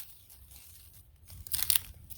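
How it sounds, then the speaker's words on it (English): Lower leaves being pulled and snapped off a plant cutting taken in winter for propagation, a few soft tearing and crinkling sounds close by, with a brief louder crunch near the end and no talk. "Pull some of these lower leaves off."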